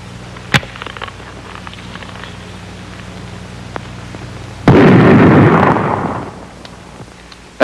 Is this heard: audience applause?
no